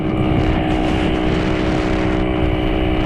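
A Honda Pop 110i motorcycle is ridden at speed, its engine droning loud and steady with heavy wind rush throughout.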